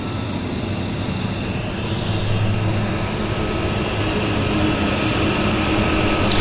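A light plane taking off from Vancouver's downtown harbour airport gives a continuous broad engine roar that swells slightly and holds steady throughout, fairly loud and without pauses.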